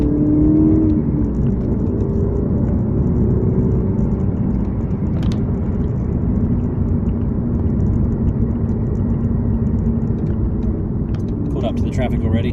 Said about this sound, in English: the exhaust noise was a lot better